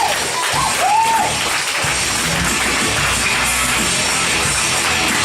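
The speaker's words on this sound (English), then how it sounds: "Please welcome to the stage and give a big round of applause to Mateusz Jurczyński." An audience at a comedy club gives a continuous, dense round of applause filling the room, loud and steady from start to finish, with a few whistles near the beginning.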